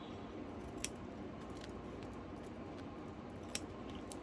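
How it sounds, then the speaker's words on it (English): Bill scissors cut an embroidered sublimation patch, giving two faint, sharp snips a few seconds apart over a low, steady background hiss. "So these are bill scissors, and they just kind of help you get it close."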